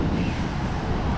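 Ocean waves on Diani beach on the Kenyan coast, a steady broadband wash of surf mixed with wind noise on the microphone, constant and fairly loud without distinct breaks.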